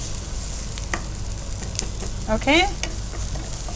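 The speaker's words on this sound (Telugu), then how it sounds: "మనకి ఆనియన్ ఎక్కువగా ఫ్రై అవసరం లేదండి." Onion frying lightly in a pan for jeera buttermilk, with a soft continuous sizzle, a few scrapes and clinks of a spoon stirring, and a brief squeaky scrape partway through; a short spoken word at the start.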